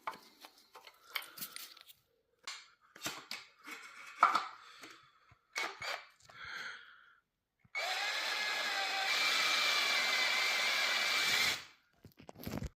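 A power driver runs out T25 Torx screws on a Yamaha FZ6 rear fender. There are scattered clicks and handling knocks first, then a steady whirring run lasting about four seconds, close and moderately loud.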